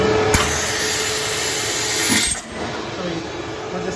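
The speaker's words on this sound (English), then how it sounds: "we're just sucking out all the moisture that is in the candy" A vacuum sealer pulls air and moisture from a bag of candy in a candy factory, a steady whirring suction hum that shifts and drops in pitch as the seal completes, with a click near the start.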